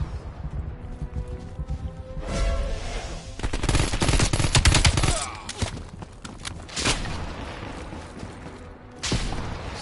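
Bursts of automatic gunfire from the Call of Duty: Cold War campaign, loud rattling volleys around two seconds in and a dense sustained stretch through the middle, with scattered single shots and quieter gaps between.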